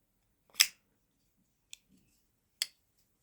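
Crisp metallic clicks from a Mcusta MC-44C Katana folding knife with VG-10 San Mai blade and anodized aluminium handle, three separate snaps spaced about a second apart, close and clean against silence.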